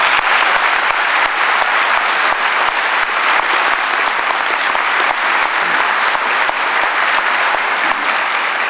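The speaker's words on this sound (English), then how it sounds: "let's give the entire class another big round of applause" Loud, sustained applause from a large crowd at a law school commencement, dense and even, continuing for the whole stretch without a break.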